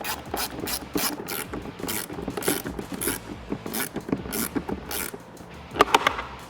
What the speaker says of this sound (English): you want to grab an 8mm socket and tighten them down with a ratchet from the inside